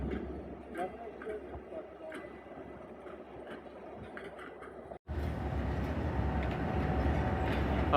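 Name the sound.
Jaffar Express train slowly departing Lahore station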